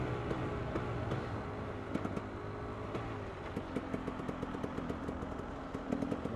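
A KTM 300 EXC two-stroke supermoto motorcycle being ridden, its engine droning steadily and close with a busy, buzzing tone and small sharp ticks throughout.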